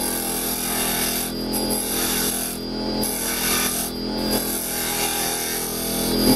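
A carbide tool takes a gentle cut on softwood spinning on a wood lathe, giving a steady, close, rasping hiss with a few brief dips where the tool lifts off.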